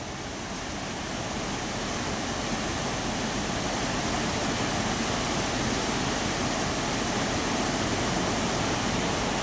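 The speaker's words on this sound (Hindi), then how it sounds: "और कितनी साफ नदी बह रही है जो आ रही है ऊपर केदार घाटी से।" A clear mountain river flows down from the Kedar valley in Garhwal, Uttarakhand, giving a steady, full rush of water that holds constant throughout with no voices.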